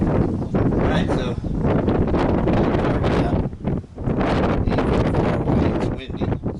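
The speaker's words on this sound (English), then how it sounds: "it's windy" Strong wind buffets the microphone outdoors, loud rumbling gusts that dip briefly and return, with a voice partly under the noise.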